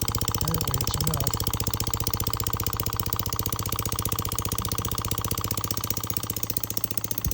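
A small Little Machine Shop 2243 model oscillating steam engine with an aluminum flywheel runs with a rapid, even chuffing beat, close and steady throughout, easing slightly near the end.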